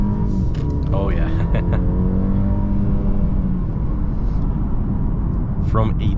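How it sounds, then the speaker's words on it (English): A 2024 Mercedes-Benz E350 with a 48-volt mild hybrid system pulls away from a dead stop, its engine note swelling steadily beneath a man's close, continuous talking. "This 48 mild hybrid system gets the car going."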